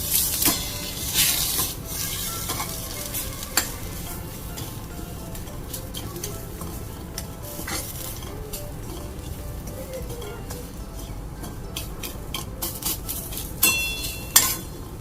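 Ingredients for an Urja Mantra shira with soaked garden cress seeds are stirred in a pan over a soft sizzle, with a spoon scraping and clinking against the metal at irregular moments, close and moderate, with no talking.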